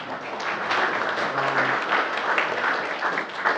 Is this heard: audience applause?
yes